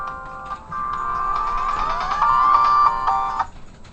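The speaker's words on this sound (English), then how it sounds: "you just heard my phone go off" A phone ringtone goes off indoors, a steady melodic electronic tone that rises and holds for about three seconds before cutting off, loud and close, with no talking.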